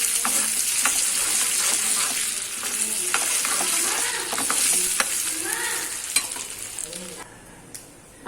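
Mustard seeds, cumin, chana dal and urad dal frying in hot tempering oil, giving a steady crackling sizzle with sharp pops and stirring scrapes throughout, close and fairly loud with no talk.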